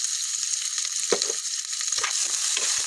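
Onion and garlic sauté in a pan for a Filipino sardines-and-misua dish, a loud, dense sizzle running steadily throughout with a few soft clinks and stirs underneath.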